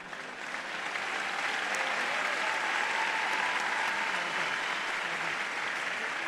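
An audience at a youth forum inauguration breaks into applause that swells within a second and holds as a dense, steady clapping across a large hall.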